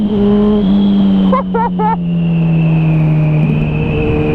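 A Suzuki B-King 1340 naked motorcycle with a Hayabusa-derived engine, its loud, close, steady drone accelerating with little throttle, briefly stuttering in quick pulses midway before settling back into a smooth pull.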